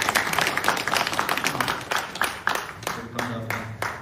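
Audience applause at a community briefing on an apartment complex reconstruction, a burst of scattered clapping from a modest crowd that thins into separate hand claps, with some talk mixed in near the end.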